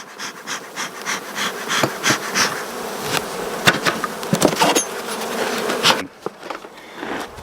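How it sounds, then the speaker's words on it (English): Africanized honey bees buzz loudly in an opened hive with a medium super full of bees, a dense droning swarm with rising and falling swells close by, then a short quieter moment near the end. "Full of bees."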